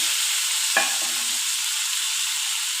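Ground ridge gourd thecha dropped into a hot pan of oil with cumin and mustard seeds, a sharp splash then a constant bright sizzle that holds steady to the end.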